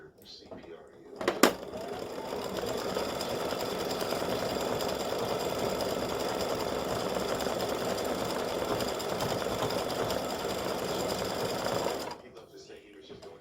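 Steady rapid whirring and clattering of an embroidery machine stitching purple thread for a Mardi Gras gnome filled design, running continuously and close for about eleven seconds before stopping.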